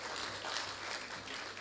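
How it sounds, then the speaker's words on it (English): Steady audience applause at a graduation ceremony, a dense wash of many hands clapping at even loudness throughout, with no voices standing out. "Can you give him a round of applause?"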